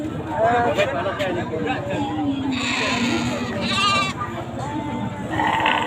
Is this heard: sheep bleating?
yes